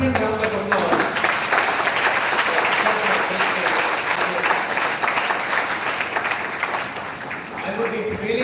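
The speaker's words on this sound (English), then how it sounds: "So I would like to request the audience for a thundering round of applause." Audience applause at a university event, a dense sustained burst of clapping from a crowd filling the room for several seconds, tapering slightly near the end as a voice begins to speak.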